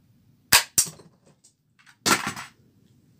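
Small-caliber gunshots at a shooting range: two sharp, loud cracks in quick succession, then a third, longer report after a pause.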